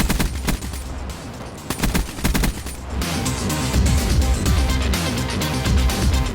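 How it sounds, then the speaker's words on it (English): Rapid bursts of automatic gunfire from the first-person shooter Black Ops 3, loud and close, with repeated short volleys running almost continuously and no talk. "So burst fire in 3 to 4 second bursts so you can hit your targets at long range and pick up those kills"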